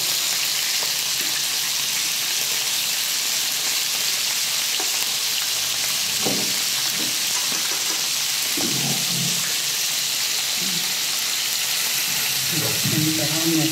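Prawns deep-frying in very hot oil, a loud, constant close sizzle and crackle with occasional stirring clunks and faint voices underneath.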